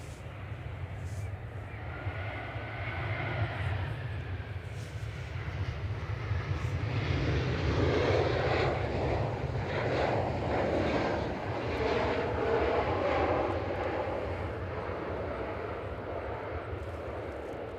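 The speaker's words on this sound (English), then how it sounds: "We have got a KLM coming in. It is an Embraer, but it's not an E2." A KLM Embraer airliner comes in to land at Manchester Airport, its jet engines a steady broad roar that swells slightly toward the middle and holds at moderate distance, with no talk over it.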